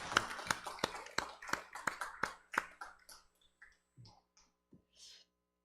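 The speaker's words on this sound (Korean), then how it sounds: "우리 박수로 환영했습니다" A church congregation applauding during a Sunday service: a burst of crisp, close handclaps that quickly thins out and fades to a few scattered claps before silence.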